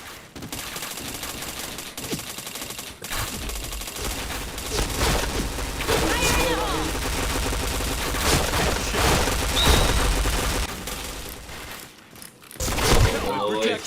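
Gunfire in a shooter video game comes in rapid bursts and booming shots, dense and loud throughout, with a brief lull and a final louder burst.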